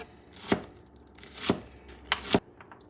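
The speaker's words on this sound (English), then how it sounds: "Maybe about a third or quarter of a large onion." Knife chopping a large onion on a cutting board, three sharp, close thunks about a second apart, then a quick double chop at the end.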